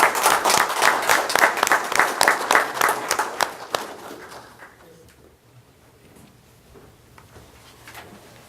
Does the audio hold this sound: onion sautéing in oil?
no